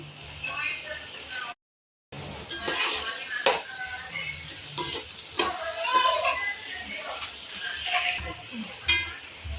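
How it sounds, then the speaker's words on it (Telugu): Green chillies and onion fry in hot spiced oil with clove and cinnamon for a chicken drumstick curry, a soft sizzle broken by pan clatter and stirring scrapes, while a person talks over it and a short gap of silence interrupts. "పచ్చిమిరపకాయలు ఉల్లిపాయ వేసి మంచిగా కలుపుదామండి"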